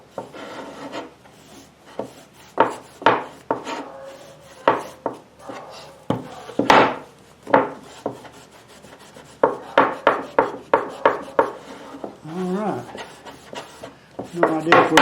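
Repeated rubbing and scraping strokes of an oil-soaked rag on a wooden phone holder, an uneven run of short rasping passes, close and moderately loud, with a few faint voice-like sounds between them.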